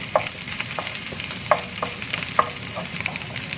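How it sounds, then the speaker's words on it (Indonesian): Onions sizzle and crackle as they sauté in a hot pan, with a few sharp clinks of a utensil stirring, close and fairly loud. "Saya masukkan bawang bombay ke dalam wajan untuk ditumis."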